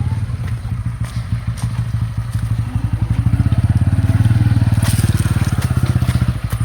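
A motorcycle on a muddy rural road, close and loud, its engine putting at a steady rhythm that grows heavier and more labored midway, with crunching and clattering of wheels through mud.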